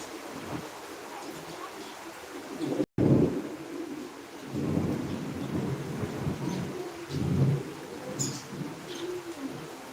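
Heavy rain pours steadily during a thunderstorm, with rumbling thunder swelling at intervals and a few bird calls above the downpour, which holds at one level apart from a brief dropout.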